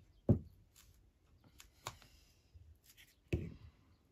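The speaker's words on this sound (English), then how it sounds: "I think I'll tear it to there" Junk mail paper torn by hand, with three sharp ripping bursts spaced over a few seconds, close and fairly quiet, with faint rustling in between.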